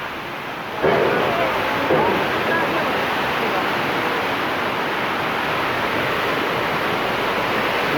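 The Tamakoshi river rushing in Dolakha, a loud steady broadband roar of fast water that starts abruptly and holds unbroken, heard near with no voices.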